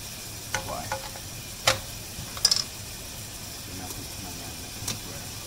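Onions and bacon frying in butter in a pan, a steady soft sizzle with a few scattered clicks and stirring knocks throughout.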